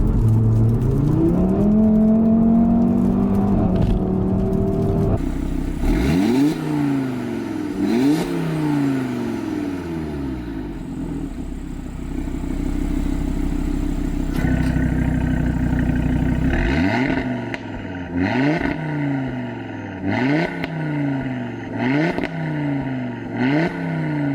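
A 2.5 TFSI five-cylinder engine in an Audi RS3 Sportback being revved repeatedly, loud and close. It climbs and falls in pitch through a long first run, followed by a series of short, sharp blips toward the end, with no speech.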